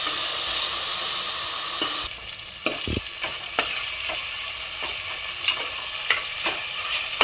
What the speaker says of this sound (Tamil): இப்போ வந்து இஞ்சி பூண்டு நல்லா வணங்கிருச்சு.